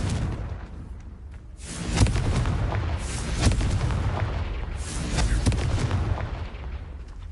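Confringo fire blast spell in Hogwarts Legacy on PS5, a string of loud booming explosions with rolling rumble, several heavy blasts following one another across the clip.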